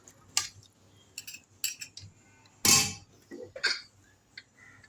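A lid goes onto a pressure cooker holding chicken biryani, making one loud metallic clatter among a few lighter clinks and taps from nearby utensils in a quiet kitchen.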